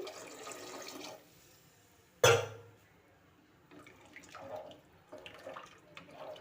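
Water splashes and pours steadily into a pot of rice for vegetable pulao, followed by a sharp knock and a few quieter pours and trickles.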